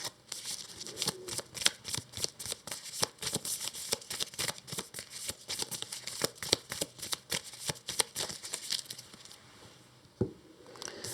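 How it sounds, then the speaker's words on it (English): A deck of game cards being shuffled by hand for a solo session of a card-driven adventure game, with a long run of quick, crisp riffling flutters at close range that thin out near the end. "And we shuffle these."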